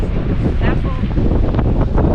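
Strong wind buffets the microphone in a constant loud roar at a clifftop viewpoint in Scotland, with a faint voice briefly audible beneath the gusts.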